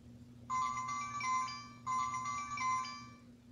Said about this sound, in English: Think that's my phone. Yeah, it is. It's ringing.